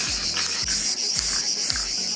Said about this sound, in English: I'm gonna spray paint again everything